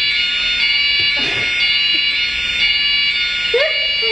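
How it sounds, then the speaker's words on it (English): Fire alarm sounding inside a building in London, a steady, piercing high-pitched electronic tone held throughout, with people talking and moving faintly underneath. "Fire alarm, we have someone hot in the building."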